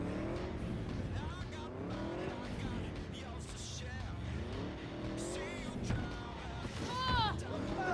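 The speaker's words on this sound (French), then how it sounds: "on va se prendre une petite moto" A motorbike ridden in the Cyberpunk 2077 video game gives a steady, continuous engine drone with occasional tire squeals. Voices and other game sounds play along with it throughout.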